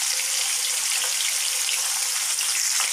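Paneer cubes shallow frying in a pan give a steady, close, even sizzle that holds without a break, with no voices.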